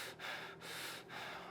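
Rapid, forceful breaths, three quick bursts of air in and out at close range, each a short rushing hiss separated by brief pauses, with no talking.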